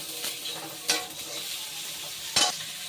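Chopped eggplant, onion and garlic fry together in a pan with a soft, steady sizzle, broken by two brief spatula scrapes as they are stirred.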